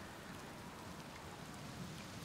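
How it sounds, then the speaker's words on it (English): Faint, even rainfall hisses steadily in the video game Outer Wilds, a soft continuous wash with no voices. "It's a good thing that you never get bored of rain, huh?"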